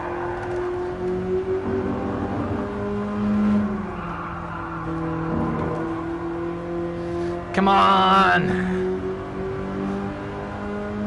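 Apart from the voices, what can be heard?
BMW E30 M3 engine revving to the limiter in VR racing video game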